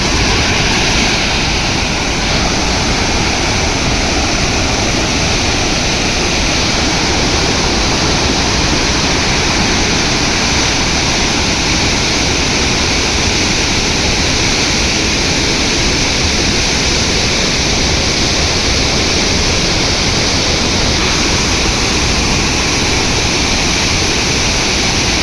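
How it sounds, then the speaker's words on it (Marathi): Floodwater roaring over a Kolhapur-type weir near the Rajgurunagar bypass, a loud, unbroken broadband rush that stays constant throughout, with no voices. "पाणी पूर्ण क्षमतेने सोडलेलं नाही आहे, तरीसुद्धा पाण्याचा प्रवाह आपण पाहू शकता किती तुफान आहे"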